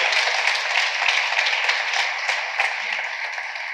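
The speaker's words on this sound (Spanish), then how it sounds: "Démosle un aplauso al Rey bendito." A congregation applauds during a church service, a dense, steady wash of many hands clapping together for several seconds with no talking over it.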